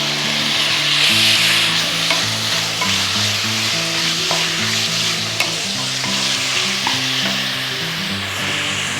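Half a kilo of bone-in mutton pieces sizzling in a hot pan for haleem, a loud continuous fry with occasional stirring clinks and scrapes, no speech.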